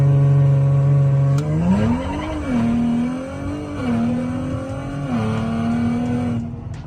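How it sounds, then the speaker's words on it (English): A Nissan Z drag car launches on launch control, holding a loud steady high-rev drone before the engine note surges upward and climbs through several quick shifts, close and without talking. "Launch control is pretty aggressive."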